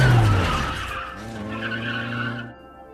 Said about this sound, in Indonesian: Di jalan, Luke mencuri sebuah mobil dan mengemudikannya dengan sangat kencang agar terhindar dari kejaran polisi.